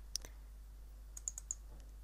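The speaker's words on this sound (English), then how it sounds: "So I'm going to double click on this file" Computer mouse clicking on a zip file on a Windows PC: a few sharp, close clicks, a lone one at the start, then a quick cluster of three, over a quiet steady hum with no talk.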